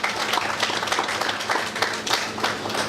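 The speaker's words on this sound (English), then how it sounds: "Let's give them a round of applause." Audience applause at the Denbigh 64 launch, a steady wash of many hands clapping at moderate loudness for about three seconds, with no clear voices over it.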